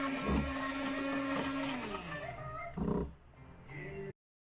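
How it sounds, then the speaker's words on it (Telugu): An electric blender whirs loudly as it blends eggs, its motor droning steadily for several seconds, briefly changing pitch, then cutting off abruptly. "ఇలా ఇప్పుడు బ్లెండ్ చేసేసుకొని బాగా బ్లెండ్ అయితే చేసేసుకోవాలి."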